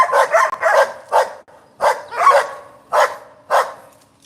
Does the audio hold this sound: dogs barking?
yes